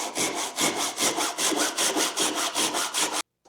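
A Japanese dozuki back saw cuts through wood in about a dozen even, rhythmic rasping strokes, close and alone, then stops abruptly.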